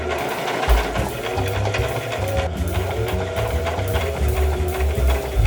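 A home sewing machine runs a straight stitch on stretchy fabric for a homemade concert top, giving a steady close whir with a rhythmic mechanical patter that carries on unbroken.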